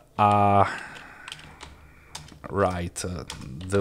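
Computer keyboard keys clatter in short bursts of taps, close and fairly quiet, between stretches of someone speaking.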